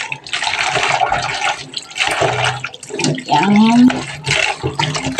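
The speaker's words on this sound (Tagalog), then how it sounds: "Hugasan natin ng maayos para mawala yung langsa ng isda." Running tap water splashes over fish being washed in a home kitchen, an irregular close splashing and gurgling that comes in bursts, with a brief spoken word.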